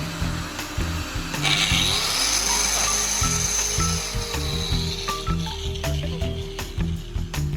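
An angle grinder runs steadily and loudly throughout, with a harsh high whine over a rattling, pulsing low drone.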